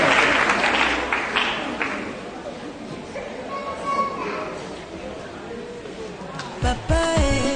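A congregation claps in praise to the Lord at a church gathering, with dense, steady applause that fades toward the end, children's voices and chatter mixed in, and speech near the close.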